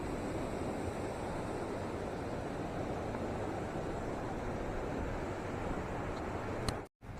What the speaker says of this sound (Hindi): देवझरण वाटरफॉल